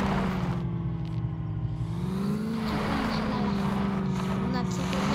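Game engine of an off-road vehicle in an Indian vehicle driving 3D game, a steady droning hum that rises and falls in pitch as it revs, continuous and fairly loud throughout.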